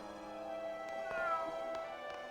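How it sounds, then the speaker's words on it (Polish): A cat meows in the video game Grim Fandango, with a few faint, short cries over a steady low hum of game background ambience. "Miau."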